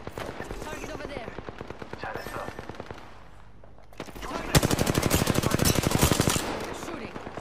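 Rapid automatic gunfire in the Apex Legends game rattles out in two long bursts, the second louder and denser, with a brief lull between them.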